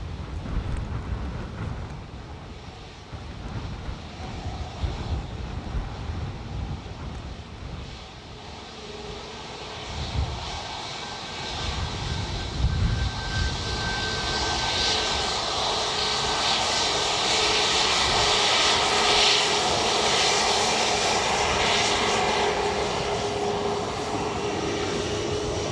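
ATR turboprop aircraft landing at Dublin Airport in gusty wind, its engines droning steadily and building to a loud, sustained roar in the second half with some wind buffeting.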